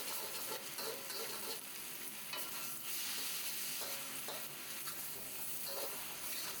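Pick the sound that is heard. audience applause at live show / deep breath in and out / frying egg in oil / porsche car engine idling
frying egg in oil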